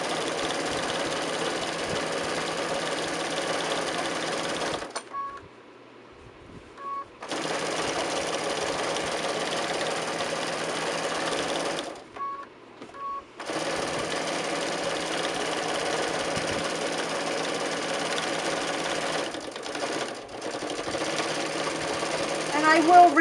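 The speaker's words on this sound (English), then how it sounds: "So I'm just stitching this to the top edge here closely" A sewing machine stitches a hanging sleeve onto the top edge of a quilt, running in long steady buzzing bursts broken by two short pauses, loud and close.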